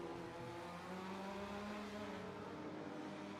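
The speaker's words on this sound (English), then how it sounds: "Here come the two Audis." Two Audi GT race cars at Fuji in a GT Asia race approach with a faint, steady engine drone that builds slowly and has no voice over it.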